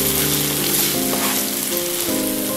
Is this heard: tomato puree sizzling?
yes